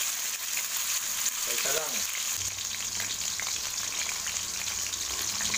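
Tuna steak from Antipolo sizzles in a hot pan, a steady dense frying hiss running throughout with brief stirring or placement sounds early on and a short spoken phrase near the start.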